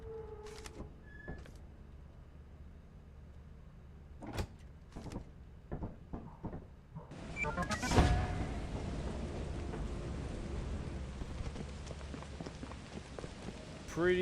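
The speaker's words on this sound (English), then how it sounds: "Yeah, it's rainy." Rain in the video game Lethal Company: after a series of sharp mechanical clunks and door-like knocks, a dense, steady rain hiss sets in and keeps going, with a few thuds over it.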